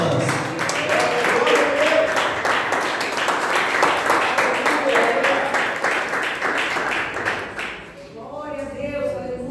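A church congregation at a Wednesday service applauding together, a dense, loud, steady wash of clapping lasting several seconds before fading, with a voice talking as it ends.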